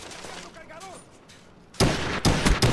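A burst of rapid gunfire from the video game Call of Duty Black Ops begins abruptly after a quiet stretch with faint talk, loud, dense and close, with a couple of sharp peaks in the volley.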